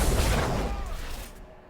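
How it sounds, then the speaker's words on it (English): Big explosions in Dragon Age: Inquisition: a loud, deep rumbling blast fills the opening, then its roar slowly dies away into a fading tail. "Big explosions."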